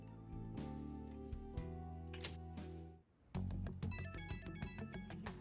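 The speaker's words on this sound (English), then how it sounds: "I get a phone call from" A phone ringtone in Persona 5 Royal, a melodic electronic chime pattern that breaks off, then resumes as a brighter repeating ring over the game's background music.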